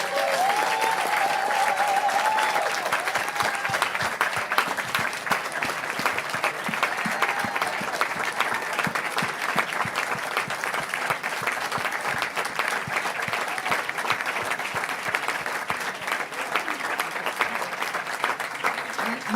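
Sustained audience applause at the We Don't Have Time hub during Davos, steady dense clapping from a crowd lasting throughout, with a voice briefly audible at the start.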